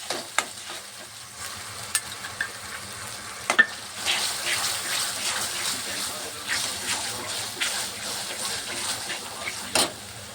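Homemade spices and a ground onion, coconut, ginger, garlic and coriander paste sauté in a pan for soya bhaji, giving a soft steady sizzle with occasional sharp scrapes and taps of stirring.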